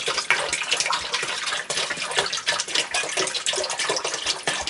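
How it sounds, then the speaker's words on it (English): Water pouring steadily into a jar for homemade grape wine, a continuous splashing gush that is close and fairly loud, running alone for several seconds. "So I'm just adding in the water now."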